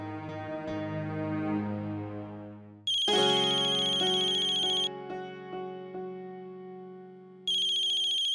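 An electronic phone ringtone plays loudly in bursts of bright, repeating tones, with a melodic ring pattern that pauses and then starts again.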